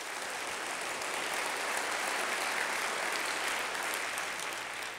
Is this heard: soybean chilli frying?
no